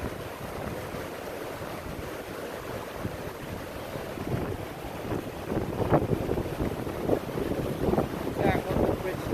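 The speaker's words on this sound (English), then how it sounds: "there is the waterfall right here. It's so beautiful. So powerful." Powerful waterfall at a lake in Alaska, heard from a bridge: a steady, dense roar of rushing water fills the whole scene, swelling slightly louder in the second half with occasional surges.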